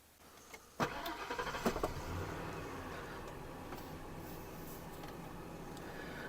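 A car on a Canadian farm starts up with a sharp clunk and a few engine bursts, then settles into a steady low hum as it drives. It is fairly faint and there is no talk.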